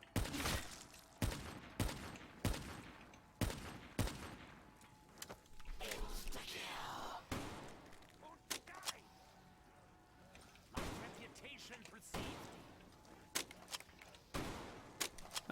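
An automatic shotgun firing in Call of Duty: Black Ops III, a steady series of loud, sharp blasts in quick bursts with short pauses, spread over the whole stretch, with faint game sounds between shots.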